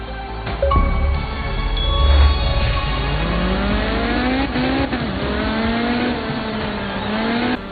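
Rally car in Art of Rally racing a night stage: a loud, close engine climbs through repeated revving gear sweeps after a short idle start, with occasional tire squeal and no voices.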